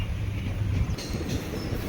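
Palakkad Superfast Express rolls along the rails with a loud, continuous rumble and a faint high wheel squeal, heard from on board without talk.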